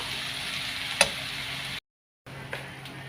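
Fried ingredients for a radish leaf and tomato bajji are stirred in a pan, giving a steady close sizzle with one sharp scrape of the spoon, then a brief silence before the frying hiss resumes.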